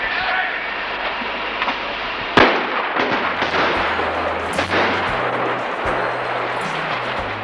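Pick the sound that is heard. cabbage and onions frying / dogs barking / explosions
explosions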